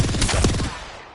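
A short, dense burst of rapid automatic gunfire in the battle royale shooter Apex Legends, loud and close, then tailing off into a fading echo.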